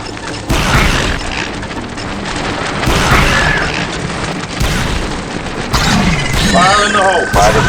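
A grenade blast booms in Star Wars: Republic Commando amid ongoing firefight noise, heavy loud bursts and crashes rolling through the clip while squad voices call out over the action.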